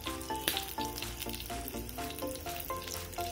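Chilies and a pinch of hing crackle and sizzle in hot oil as they saute until crisp, a steady close frying hiss with light tapping and no voices.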